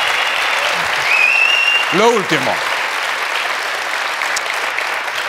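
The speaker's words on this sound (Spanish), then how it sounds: "un aplauso para ellos" Studio audience applause on a late-night talk show, a steady loud wash of clapping throughout with a host's voice speaking briefly over it.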